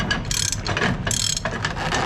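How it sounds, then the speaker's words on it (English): Rapid mechanical clicking of a ratchet winch bar tightening a flatbed truck strap winch, loud and close, in quick bursts of pawl clicks. "ratchet it down as much as you want."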